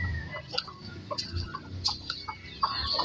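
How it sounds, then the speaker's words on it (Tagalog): A farmyard rooster gives scattered short clucks and chirps at close range over a low outdoor rumble, the sounds coming in irregular bursts without any talking. "Ito naman yung tandang namin na isa."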